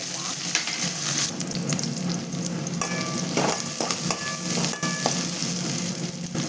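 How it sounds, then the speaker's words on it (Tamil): Onions sizzling and frying in hot oil in a pan while cooking chicken gravy, a steady crackling hiss that runs throughout with occasional stirring scrapes, up close and with no talking. "இப்போ எண்ணெய் சூடானதும் நம்ம வெங்காயம் போட்டுக்கலாம்."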